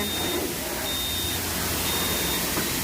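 At a self-service car wash, a timer sounds three spaced, thin high beeps as its time runs out, heard over a loud, constant rush of spraying water and machinery.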